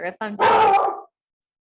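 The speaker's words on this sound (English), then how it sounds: "that's my dog, of course." A pet dog gives a couple of short barks at close range, overlapping a woman's speech in a home setting.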